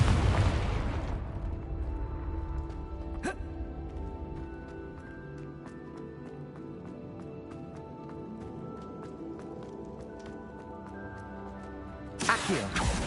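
A blasting-curse explosion from the Hogwarts Legacy video game bursts loudly at the start and fades into a long decaying rumble, with a sharp crack midway and another burst near the end.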